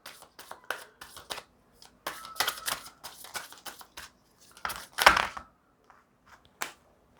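A deck of tarot cards is shuffled by hand in quick, papery riffles and flicks, close and fairly soft, in irregular bursts with short pauses and one louder snap near the end.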